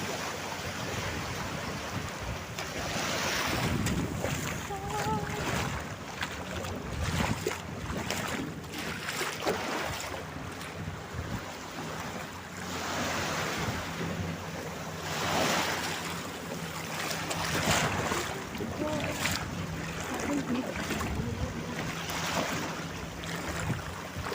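Ocean surf rolls and crashes in repeated surges, with gusts of wind buffeting the microphone throughout.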